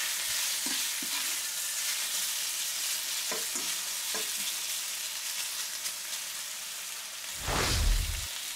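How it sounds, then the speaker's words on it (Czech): Minced garlic sizzles softly in a pan of frying pork belly, with scattered scrapes and clicks of stirring and a louder burst of sizzling near the end. "Přidám k němu dva stroužky nadrobno nakrájeného česneku. Zamíchám a nechám minutu rozvonět."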